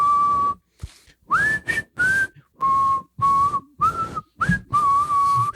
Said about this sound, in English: And then you hear the whistle.